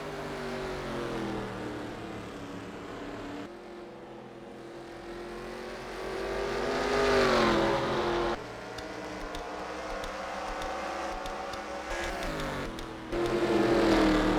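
Race cars in the NASCAR Racing 2003 video game, engines droning and rising in pitch through the gears as cars pass, with continuous layered motor noise and swells of acceleration.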